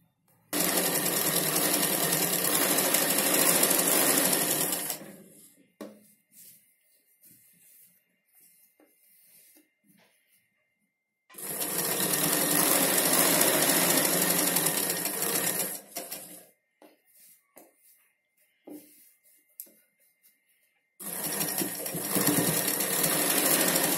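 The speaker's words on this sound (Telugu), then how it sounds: "ఈ విధంగా చుట్టూ మనం స్టిచ్ చేసుకోవాలి." A sewing machine stitching around a Punjabi dress pant runs in steady bursts of about five seconds each, with quiet pauses of fabric handling between them, loud and close.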